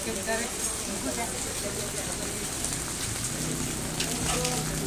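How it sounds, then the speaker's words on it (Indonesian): Rain pours steadily at a street food stall in Penang, a dense, even hiss of drops pattering on surfaces nearby. Faint voices and stall noise sit under the downpour. "Hujan guys, pakai payung guys."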